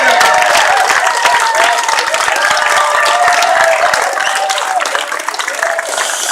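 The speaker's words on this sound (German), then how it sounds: "Ein Applaus für Sven!" An open-air street-festival audience in an old town square claps and applauds continuously after a juggling act, dense and lively, with some cheering and voices mixed in.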